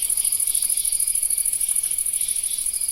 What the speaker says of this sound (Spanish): silenciar los grillos